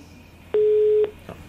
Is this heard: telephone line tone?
yes